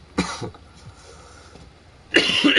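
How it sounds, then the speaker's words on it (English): Two harsh bursts of coughing, one short at the start and a longer rough burst near the end, with a quiet murmur of background noise between them. "Will I ever stop coughing?"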